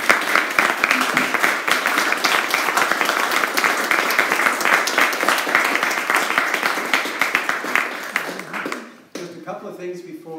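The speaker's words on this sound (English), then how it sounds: "Let's give a nice round of applause." Sustained applause from a large crowd, dense and steady for several seconds before fading out as a voice begins speaking.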